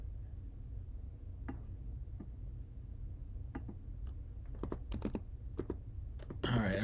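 Computer keyboard typing at a streaming desk during an oil painting session, sparse quiet key clicks in scattered clusters over a low hum, very faint overall.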